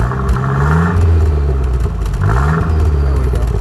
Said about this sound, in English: Give a little more of a rev